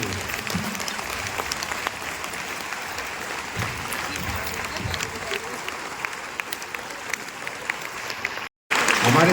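Sustained applause from an audience at a women's insurance-agent convention event in Bhopal, a steady dense clapping texture with a brief dropout near the end.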